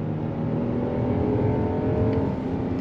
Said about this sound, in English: On-throttle, here we go. 8-speed drops down and we are off.